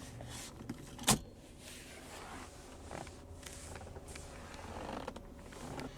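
Center console lid of a 1997 Mercedes-Benz SL 320 closing with one solid, close thunk, surrounded by faint creaks and handling noise in a quiet car interior.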